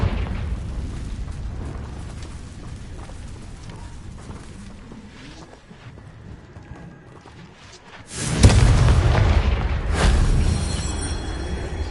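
In the Hogwarts Legacy video game, a Confringo fire spell goes off as a sudden loud burst and boom that swells for a few seconds against a quieter ambient background, with no voice during the blast.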